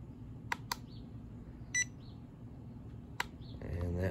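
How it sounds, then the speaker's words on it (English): Several short, sharp low-battery beeps from a 4DRC M3 mini quadcopter stand out over a steady low hum, spaced irregularly, with a rising mechanical whir toward the end. "That's why it was beeping."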